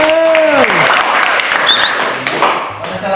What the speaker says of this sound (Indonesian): Dari kelompok yang sudah presentasi kita beri tepuk tangan dulu.